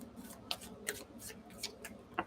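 Tarot cards are shuffled in a series of crisp, quick riffling snaps, about six separate bursts spaced irregularly, close and fairly quiet against a soft room background.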